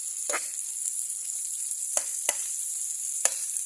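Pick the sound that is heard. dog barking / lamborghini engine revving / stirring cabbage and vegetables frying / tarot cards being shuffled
stirring cabbage and vegetables frying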